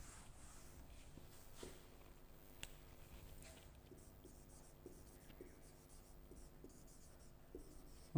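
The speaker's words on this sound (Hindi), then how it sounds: "सपोज एक सेंटेंस और लिख रहा हूं मैं" Pen or pencil scratching across paper as a sentence is written by hand, soft and close with small irregular strokes and taps under a steady low room hum, with faint hints of a nearby voice.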